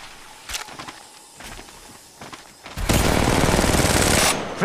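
Enemies in Apex Legends Mobile open fire with a few scattered shots, then a loud sustained burst of rapid gunfire dominates the second half.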